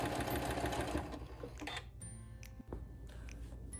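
A sewing machine stitching a half-inch seam around a quilt hums in a close, steady run for about two seconds, then stops, leaving light clicks and handling sounds.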